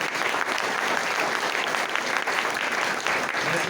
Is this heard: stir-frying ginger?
no